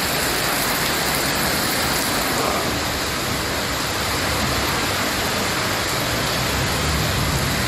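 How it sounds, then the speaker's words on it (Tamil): Heavy rain pours in Coimbatore, a dense, steady roar of loud, unbroken noise that holds at the same level throughout with no pauses and no voices. "கோவையில் கடந்த சில நாட்களாக கனமழை பெய்து வரும் நிலையில்"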